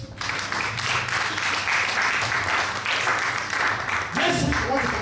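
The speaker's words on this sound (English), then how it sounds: "Clap for Jesus." Congregation applauding in a church service, a steady wash of clapping from many hands that fills the room, with voices mixed in beneath it.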